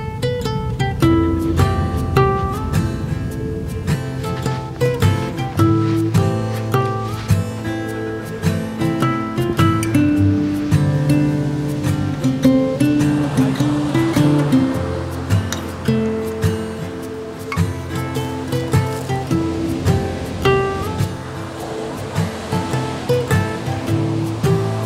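Ocean surf washes continuously onto a beach beside a cottage in Iceland, a loud steady roar of breaking waves with no voices.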